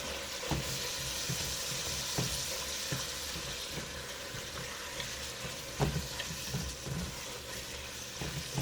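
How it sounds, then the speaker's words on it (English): Two pounds of ground beef browning in a pan give off a continuous close sizzle, with repeated soft scrapes and taps of a utensil at irregular intervals and no talking. "I'm browning my ground beef"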